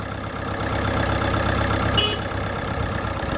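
A small four-cylinder diesel engine of a Jinma 404 mini tractor with cab idles steadily nearby with a low, even chugging hum, joined briefly by a short high hiss partway through.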